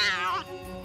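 A cartoon cat gives a single short meow, loud and close, a bright falling cry lasting under half a second before fading into background tone.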